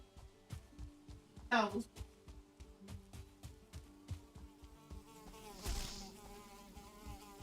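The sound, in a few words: deathsquito buzzing in Valheim video game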